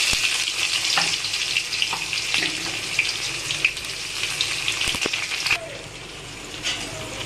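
Cumin and onion go into hot oil with a close, continuous sizzle and crackle, a few sharp clinks and stirring scrapes breaking through, then a short rush of water near the end.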